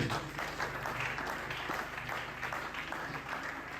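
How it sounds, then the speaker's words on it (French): Church congregation applauding during a Sunday service, a sustained wash of many hands clapping together at moderate volume, slightly distant with room reverberation. "Acclamons très fort pour le Seigneur."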